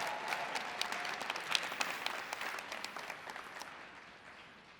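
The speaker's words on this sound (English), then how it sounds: "If you could give our customers and the people in this room a huge round of applause" A large conference audience applauds at the opening keynote of ClioCon 2025, a legal technology event. The clapping is dense and fairly distant, holds steady, then fades gradually toward the end.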